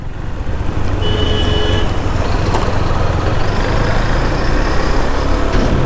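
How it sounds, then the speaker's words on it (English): A KTM Duke 390 motorcycle engine drones loudly and close as the throttle opens at low riding speed, a steady rumbling hum with wind and road noise over it. "Let's increase the throttle now."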